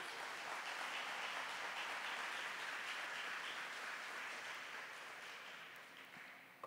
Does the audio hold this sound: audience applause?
yes